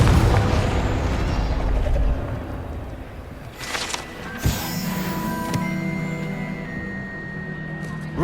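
Confringo blasting spell explosion in the Hogwarts Legacy video game: a sharp burst around the midpoint over dense, continuous game noise, followed by sustained magical tones and rumble.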